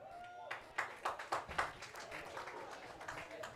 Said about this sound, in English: The Hart's faithful applaud the defensive effort of their team here